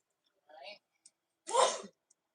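A small breathy intake comes first, then one sharp sneeze nearby that bursts out and fades within half a second, with quiet moments before and after.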